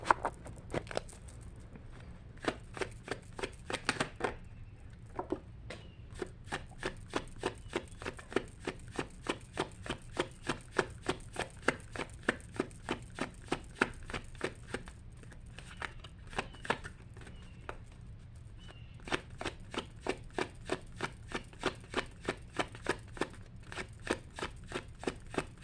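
Tarot cards are shuffled up close for a reading, a steady run of quick crisp riffling snaps with brief pauses, alone with no talk.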